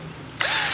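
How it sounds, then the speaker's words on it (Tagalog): A power drill starts abruptly partway through while making an airgun fishing dart, its whine rising as the motor spins up after a quieter lead-in. "Dapat meron kayong barena."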